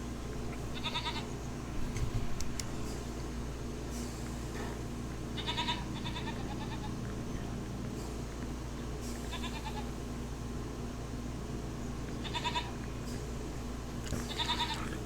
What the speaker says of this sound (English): Oh, little baby goats.